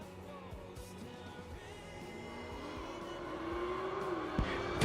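Drag race cars, a Camaro and a Fox Body Mustang, at a no-box drag racing event: engines rev and rise in pitch from a distance, growing louder toward the end.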